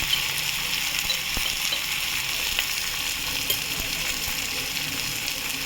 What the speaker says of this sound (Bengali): এবার আমি এর মধ্যে গুঁড়ো মশলাগুলো দিয়ে দেবো।